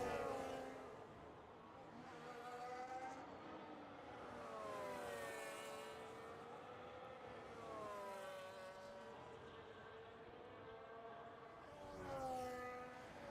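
Simulated race car accelerating out of the pit lane in a Spanish Grand Prix esports race, engine pitch rising and falling through gear changes in repeated sweeps, steady and moderately loud with no talk.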